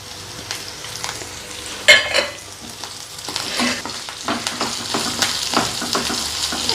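Onions sauté in a pan as a spoon stirs in coriander leaves, a soft sizzle running throughout, punctuated by a sharp scrape near the start and repeated stirring clatters later.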